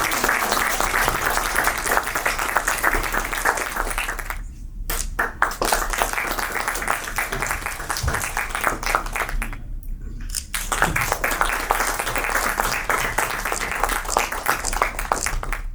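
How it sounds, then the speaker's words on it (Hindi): A ceremony audience applauds an author being presented with gifts at a literary event. The clapping is dense and sustained, with two brief pauses in the middle, then it keeps going steadily to the end. "आप लोग इस मौके पे तालियां बजाएं"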